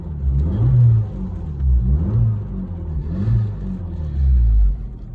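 An Abarth car engine in sport mode close by revs repeatedly, about four rising and falling surges in a steady rhythm, loud and throaty with no talking.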